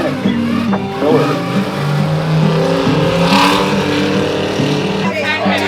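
Dirt track race cars roar at a Bridgeport event, their engines rising and falling as they accelerate and pass close by, loud and continuous, with voices mixed in.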